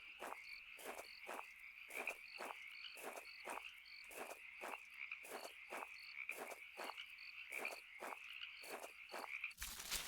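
Regularly spaced raspy frog croaks from the video game Home, roughly two per second, faint and even against near silence, ending with a sudden louder broadband burst.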